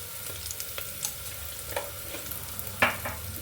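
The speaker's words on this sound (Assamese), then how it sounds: "এতিয়া দি দিম হালধি গুড়ি," Masala of fried onion and ginger-garlic paste sizzles in a pan over lowered gas flame as turmeric powder is stirred in; a soft steady fry with scattered spoon scrapes, one louder clack near the end.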